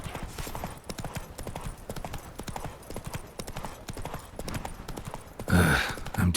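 A horse gallops in The Witcher 3: Wild Hunt, its steady, close hoofbeats drumming throughout, with a brief louder rustle near the end.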